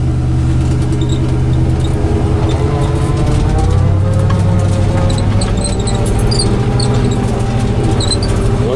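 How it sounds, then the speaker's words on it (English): A 1956 Buick's transmission whines steadily while driving, a continuous gear tone riding over engine and road rumble throughout, with faint high squeaks scattered on top. "One thing I like about this transmission is that I like the gear whine"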